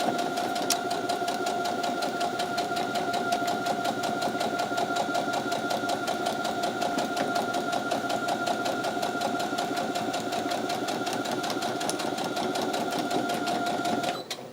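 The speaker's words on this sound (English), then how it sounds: "I trimmed it, and now I am understitching it." A sewing machine understitching a seam on a vintage reproduction dress runs continuously at a fast, even hum with a rapid needle chatter throughout, stopping right at the end.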